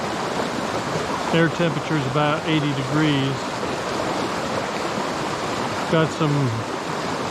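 Steady broadband rush of a flowing river running about 105 to 110 cubic feet per second, close and continuous, with someone talking briefly over the water.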